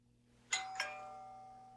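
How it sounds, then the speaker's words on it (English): A doorbell rings two bright chime tones in quick succession, then the second tone rings on and slowly fades in an otherwise quiet room. "And then the doorbell rang."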